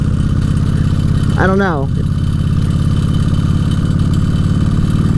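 A 2003 Kawasaki Vulcan VN1600 Classic motorcycle engine rumbles loudly and steadily up close, bogging down on take-off, with a brief spoken remark over the throbbing idle.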